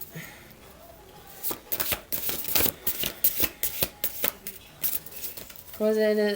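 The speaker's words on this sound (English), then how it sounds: "by pulling you 3 beautiful prayer cards" Prayer cards being shuffled and pulled from a deck during a reading, a run of quick close riffling flaps and snaps, with a voice speaking briefly at the end.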